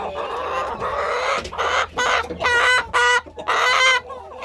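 Pekin bantam hens cluck in short, repeated bursts in a poultry yard while eating breakfast, close and fairly loud, the calls coming in a choppy rhythm.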